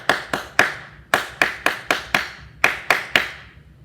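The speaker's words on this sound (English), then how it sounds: "So listen to what I clap. 1 and 2 and 1." One person claps a rhythmic pattern with their hands in an aural skills lesson, close and crisp, in sharp distinct claps grouped in short phrases with brief pauses between groups, and no talking.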